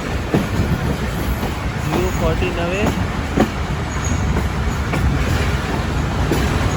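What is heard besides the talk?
Awam Express train standing at railway station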